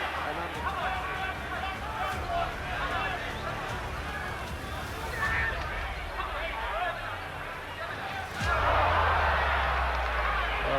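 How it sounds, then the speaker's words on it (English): A boxing crowd jeers a fighter in an arena, a dense murmur of booing and shouting under steady commentary, swelling louder near the end. "So the crowd now are jeering Smith."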